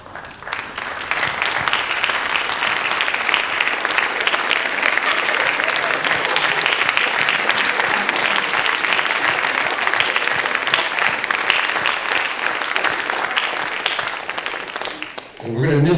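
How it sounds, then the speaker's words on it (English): Standing applause for a teacher, Mr. D, at a TRI-M music honor society induction ceremony, sustained steady clapping from a crowd lasting many seconds before cutting off. "So I think we need to do a standing round of applause for Mr."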